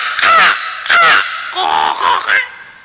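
A performer on a comedy stage imitates a crow, giving four harsh, nasal caws in quick succession, loud and close, with short pauses between them.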